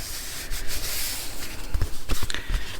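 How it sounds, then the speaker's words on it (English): Paper scraps in a handmade junk journal are pressed and rubbed down by hand, giving a soft sustained swish followed by several short crinkling pats and rubs, close and fairly loud. "Let's just give everything a press here."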